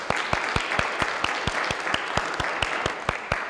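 Applause from a conference audience at a talk on women's entrepreneurship: sustained clapping from a crowd, dense and steady, with individual sharper claps standing out at a fairly regular beat throughout.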